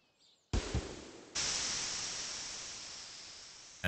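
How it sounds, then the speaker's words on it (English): Hydraulic hiss of a bus arriving in Stardew Valley: a sudden burst of broadband air hiss, then a second louder release that holds steady and slowly fades, with no voices. "As we arrive, hear the hiss, the hydraulics in the bus"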